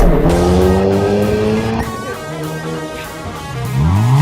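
A Hyundai Kona N crossover in N mode accelerates hard through the gears. The engine note sweeps upward several times, with drops at each shift, and the sound is loud and close throughout.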